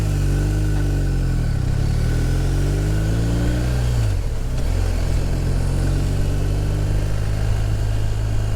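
A BMW R1250RT motorcycle being ridden on a pleasant day, its engine droning steadily and loudly with pitch rising and falling through gear changes, wind noise underneath, no talk.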